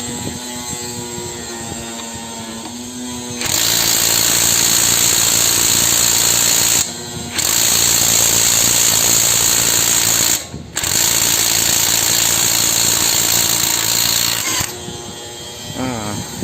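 An iMax cordless impact wrench works a stuck bolt loose with loud, sustained rattling hammering in three long bursts, separated by brief pauses, after a quieter motor hum at the start.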